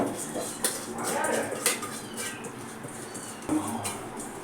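Rice tipped into a pot of mutton biryani and stirred, giving faint scattered clinks and scrapes of a spoon against the pot with a soft bubbling bed underneath.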